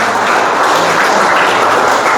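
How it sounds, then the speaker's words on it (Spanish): A church congregation claps together in a loud, dense, unbroken roar of applause that fills the room. "Démosle un fuerte aplauso al Señor."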